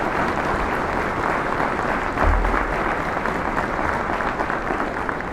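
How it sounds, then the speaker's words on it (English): A warm round of clapping from the audience at a university presidential inauguration, welcoming three representatives, dense and continuous applause filling the hall at steady loudness throughout. "So I want you to give these 3 representatives a warm round of applause."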